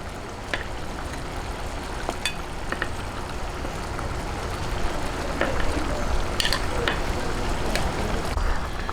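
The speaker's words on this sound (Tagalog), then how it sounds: "Ngayon, pagka po ganitong kumukulo na, ilalagay na po natin itong ating chicken." Chicken pieces going into a pot of boiling chilli garlic butter liquid: steady bubbling and simmering with scattered clinks and splashes as the meat is added.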